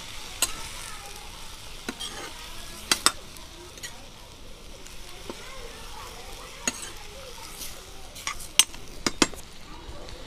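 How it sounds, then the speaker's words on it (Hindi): Kachri vegetable curry with spices and panch phoron sizzles in a pan while a spoon stirs it, giving soft frying hiss under scattered sharp metallic scrapes and clinks, close and fairly quiet. "इसे भी अच्छे से हम सब्ज़ी में अच्छे से मिला लेती हूँ"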